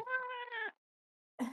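A cat meows twice up close, a drawn-out, tonal cry followed after a short silence by a second, rougher meow cut off at the end.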